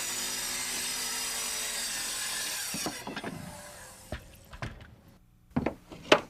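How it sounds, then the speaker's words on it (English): A saw cuts through a 3/4-inch wooden stair riser board in a short, rough rasping burst lasting a few seconds, then the cut ends and several sharp knocks and clatters of wood follow. "And here's a riser being cut."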